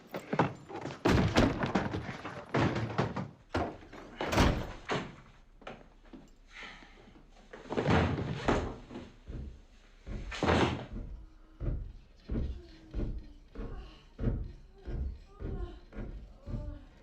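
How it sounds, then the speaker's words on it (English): A door opens and closes in a room, giving a series of soft thunks and knocks with some rattling, heard under a quiet background. "You open the door."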